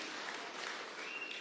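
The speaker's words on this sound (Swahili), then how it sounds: "tuwapigie makofi" Brief, faint applause from a crowd at a political gathering in Machakos County, Kenya, a soft, even patter of clapping heard from a distance.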